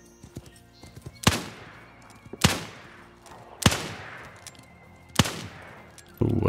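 Four sharp, booming gunshots ring out about a second apart in the Wild West Online game, each with a long echoing tail. Faint ambient game sounds fill the gaps between shots.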